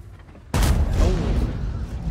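A heavy IS-7 tank cannon fires in a tank video game on the Karelia map, opening with one sudden loud blast and a long rumbling boom that tails off.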